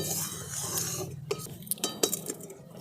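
Gram flour and semolina stirred in ghee in a pan, with steady scraping and a few sharp utensil clinks against the metal pan.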